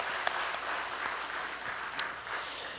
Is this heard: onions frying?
no